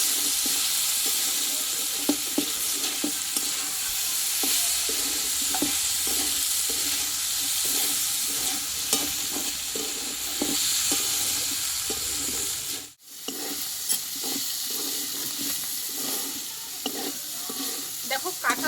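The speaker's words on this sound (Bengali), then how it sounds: "আমি এবার আরও কিছুক্ষণ কিন্তু এই তেলে আমি এভাবে ভেজে নেব" Jackfruit seeds sizzle steadily in hot oil with panch phoron, a spatula scraping and stirring at a regular rhythm and a brief pause near the end.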